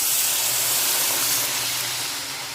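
Water poured into a hot pan of sautéed rice, lentils and vegetables for bhog khichuri gives a loud, steady hissing sizzle that eases slightly toward the end.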